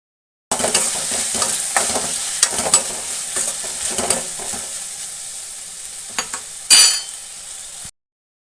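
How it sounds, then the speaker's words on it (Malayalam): Okra stir-fry with salt being stirred in a hot pan, loud continuous sizzling broken by repeated scraping strokes of a spoon and one sharp burst of crackle near the end. "എന്നിട്ട് നമ്മൾ നല്ലപോലെ ഇളക്കി യോജിപ്പിക്കണം"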